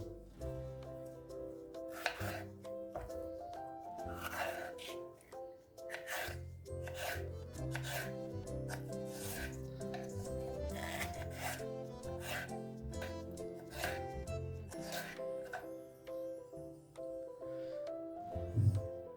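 A knife chops peppers into julienne strips on a board in quick, repeated strokes, heard under steady background music.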